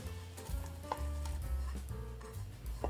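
Chopped onions tumble into mutton sizzling in a pot for mutton kunna, a steady close frying hiss with a few soft scraping stir sounds and light clinks.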